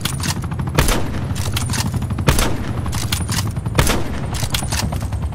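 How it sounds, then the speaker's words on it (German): Paladin sniper rifle shots fired at an attack helicopter in Black Ops 4: loud, sharp reports at a steady pace over a continuous rumble of battle noise and helicopter drone. "Man braucht wirklich nur 5 Schüsse mit der Paladin"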